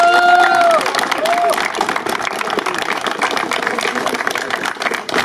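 An outdoor crowd applauds a winner at a school tractor-driving competition. The clapping is dense and steady, with a brief tonal sound at the start and a continuous background bustle underneath.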